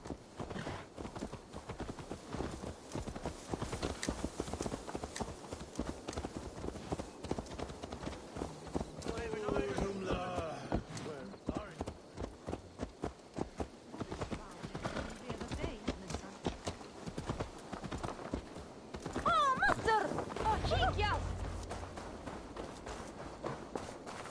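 Rhythmic clip-clop of horse hooves on hard ground runs throughout, moderately near, with people talking over it.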